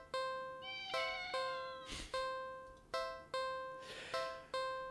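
A cat in a cardboard box at the end of an alley meows repeatedly, about seven clear, evenly spaced calls, each with a sharp onset and slow fade, close and fairly quiet.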